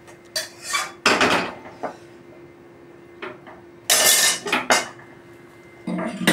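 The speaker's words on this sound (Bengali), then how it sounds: "এই তোমার কড়াইটা একটু কাঁচিয়ে আশেপাশে যে তেল মশলাটা আছে" A metal spatula scrapes a wok of egg omelette curry, gathering oil and spice paste from the sides, in several loud, irregular bursts of scraping and clanking with quieter gaps between.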